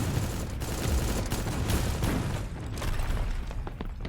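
Gunfire from the online shooter game Sector's Edge fills the mix, with dense loud bursts and booms in rapid succession. A sniper rifle is among the weapons firing.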